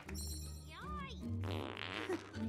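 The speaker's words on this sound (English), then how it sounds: "Can I fart?" A fart sound effect in the video game Heads Will Roll, a short buzzy blast mixed in with game audio and chatter, lasting about a second.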